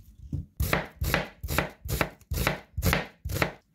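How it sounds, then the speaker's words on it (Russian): A knife cuts onion into thin strips on a cutting board for a Korean-style marinated mushroom salad, giving seven or eight close, evenly spaced chopping thuds with no talk. "Репчатый лук также нарезаем соломкой."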